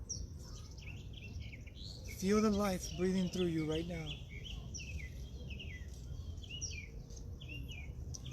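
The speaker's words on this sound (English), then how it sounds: "Listen to the birds." Small birds chirp and twitter faintly outdoors, scattered high calls running steadily in the background while a calm voice speaks over them.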